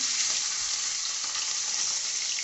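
Marinated katla fish fries in hot oil in a wok, making a loud, steady, close sizzle that stays dense and even throughout with no talk.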